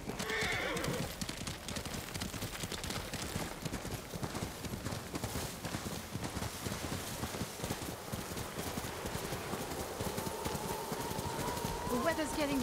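Horses in the samurai video game Ghost of Tsushima gallop steadily through snowy weather, a continuous close clip-clop rhythm with neighing and wind-like noise, while characters talk over it.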